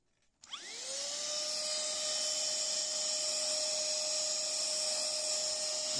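A Milunho cordless handheld car vacuum cleaner switches on with a click and spins up into a steady, high-pitched whine with a bright motor tone, holding constant and close for several seconds with no talking.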